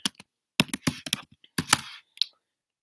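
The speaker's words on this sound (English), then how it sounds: "I will be typing out the movies that we are going on the list" A computer keyboard is typed on in short, crisp bursts of keystrokes at close range, separated by brief silent pauses.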